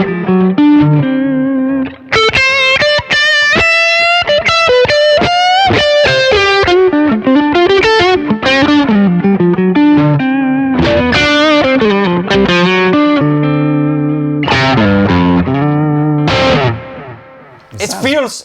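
An electric guitar played through a pedal set to lead mode, with delay added, sings distorted, sustained lead lines and bends, loud and close with echoing repeats trailing behind the notes.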